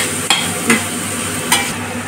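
Green chillies and capsicum fry in a pan for chilli chicken, a loud steady sizzle with a few sharp spatula scrapes, heard close with no talking.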